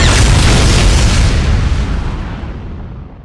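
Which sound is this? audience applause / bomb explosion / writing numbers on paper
bomb explosion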